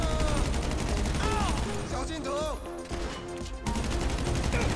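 Rapid video game gunfire from a mission-based shooter, sustained bursts of shots filling the whole stretch, with players talking over the shooting.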